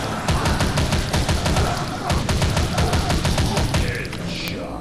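Rapid, loud gunfire in the zombie shooter game Dead Target, a dense stream of close shots with booming low end that tapers slightly near the end.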